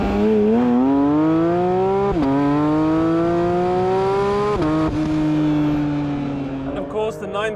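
A Porsche 911 GT3 RS 992.1 with its high-revving 9,000 RPM engine climbs through gears, each pull rising in pitch before sharp shifts, loud and close, with the exhaust note dominating.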